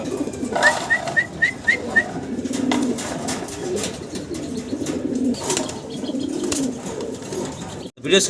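Three German Beauty Homer pigeons coo in soft, low, repeated phrases close by. A short run of small chirps and some faint rustling join the cooing, with occasional talk in the background.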